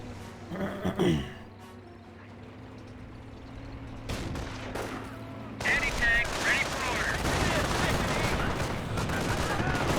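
MG42 machine gun fire in the video game Company of Heroes, heard as bursts of gunfire amid battle noise, with someone talking over it and a denser barrage in the second half.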